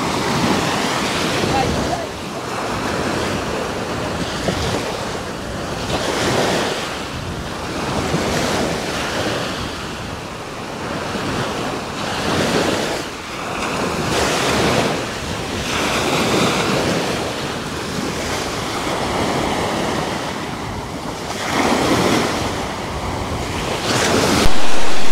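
Ocean waves roll in and wash up on a beach in a steady rhythm, with wind buffeting the microphone throughout.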